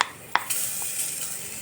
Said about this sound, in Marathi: इकडं आपण कांदा परतायला ठेवलेला आहे.